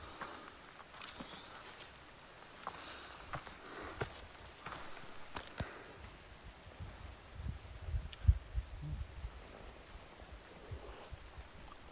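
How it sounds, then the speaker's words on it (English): Steady rain falling on rocks, a dense patter on surfaces with occasional louder drips and low thumps, continuous throughout with no voices. "It is raining a lot"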